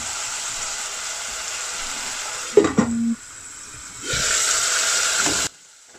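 Chicken and onion khichuri cooking in a pot, a steady hiss and sizzle with a brief clatter partway through, then a louder stretch of sizzling before it cuts off.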